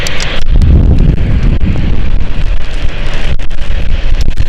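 Strong gusting wind at London City Airport buffets the microphone with a loud, continuous low roar and rushing noise throughout, with no voices.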